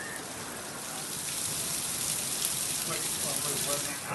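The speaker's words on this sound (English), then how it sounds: "It's pouring down rain right now." Heavy rain pours down outdoors at an amateur radio Field Day event in Albert Lea, Minnesota, a dense, steady broadband hiss that swells slightly partway through and holds loud and close throughout.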